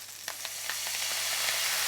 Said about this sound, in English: As soon as the kale hits the pot pan, it begins to crackle.